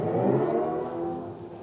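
Mini Countryman SE All4 electric SUV playing its artificial drive-mode sound, a loud, steady synthetic engine-like hum that swells slightly then eases, heard alone without talk.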